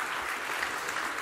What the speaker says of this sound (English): I'm happy that you're applauding